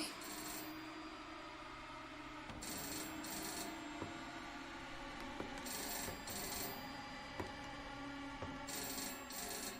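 A telephone rings repeatedly in a game trailer, bright bursts of ringing recurring in a regular pattern over a low ambient music bed, with no talk.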